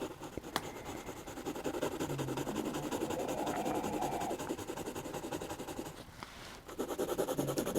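Colored pencil scratches back and forth on paper in continuous close rubbing strokes. The sound pauses briefly near the end and then resumes.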